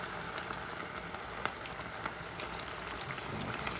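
Fish pieces frying in hot oil in a pan, a steady dense sizzle with scattered pops and crackles throughout, close and continuous with no talking.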